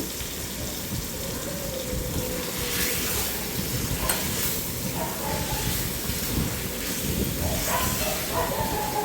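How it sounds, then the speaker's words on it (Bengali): Chicken fries with spice paste in a home kitchen pan, producing a dense, steady hissing sizzle that runs throughout, with faint occasional stirring scrapes mixed in. "এবার আমি চিকেনটাকে দিয়ে মশলার সাথে ভালোভাবে কষিয়ে নেব।"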